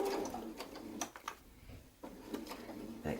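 A sewing machine stitching with a 1/4 inch foot during Westalee Design Mini Spin-e-fex quilting work runs in short bursts, its needle buzz starting and stopping close by with brief pauses between runs.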